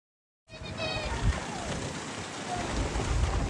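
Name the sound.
rain with cyclone winds in Gaza, news footage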